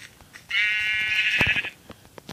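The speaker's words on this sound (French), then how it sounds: "Ah, des moutons." Sheep in the Minecraft video game, one clear, loud, wavering bleat lasting about a second, close up over quiet background.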